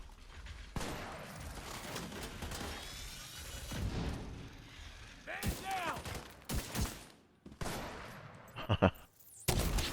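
Gunfire in The Division 2 video game, from a sniper rifle and a second gun, with bursts of loud shots and booming impacts over game noise, then sharp single reports near the end.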